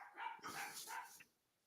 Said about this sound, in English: I can hear my dogs barking.